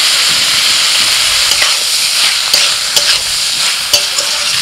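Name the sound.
stirring and frying onion with sesame paste in pan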